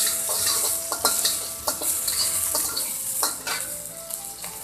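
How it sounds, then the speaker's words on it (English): Chopped ginger and garlic stir-fried in a pan for a Chinese dish: steady close sizzle broken by sharp, repeated spatula scrapes and knocks at an uneven rhythm, no voices. "we need to add chopped ginger garlic also. Stir fry."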